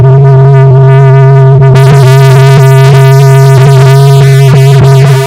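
Warning chime in a Nissan S-Cargo that keeps sounding above 60 mph, a loud, buzzy sustained electronic tone with strong harmonics, pulsing in steady repeated beats, close and with no talking.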